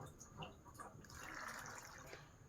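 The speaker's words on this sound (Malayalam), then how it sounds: "വെള്ളം ഒഴിച്ച് കൊടുക്കുക." Water is poured into a cooking pot for a bottle gourd sambar, a faint, soft splashing fill that swells briefly in the middle.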